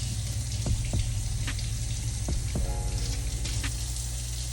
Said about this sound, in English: So I just rinse until I literally don't see no more soap residue